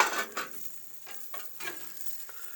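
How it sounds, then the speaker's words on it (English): Deer neck birria tortillas fry in lard on a hot surface, giving a faint, soft sizzle with a few light scrapes and clinks of a utensil, quiet and close with no voices. "Look how that lard crisps them tortillas"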